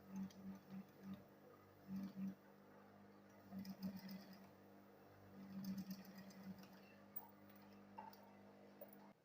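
A sewing machine stitching a school bag runs in short bursts at a quiet level, its rapid ticking needle coming in several separate runs with pauses between them.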